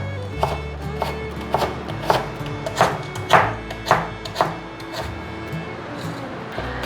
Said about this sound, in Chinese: 把红萝卜切碎